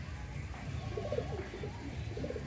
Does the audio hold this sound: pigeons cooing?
yes